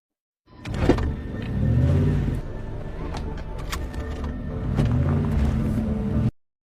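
A car drives along inside the Bird Box film with its windows blacked out, a close engine rumble that swells twice amid scattered clicks and knocks before cutting off sharply, with no speech.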